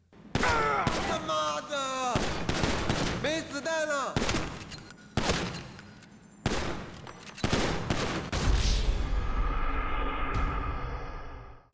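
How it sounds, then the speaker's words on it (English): NPC gunfire in GTA 5 rings out in repeated bursts of shots over several seconds, mixed with voices and game sounds, then fades into a quieter tail. "The NPCs will then have no issue shooting you in the back of the head until you die."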